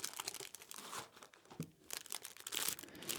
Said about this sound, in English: I love these Pop Tarts because they have these really light foil wrappers.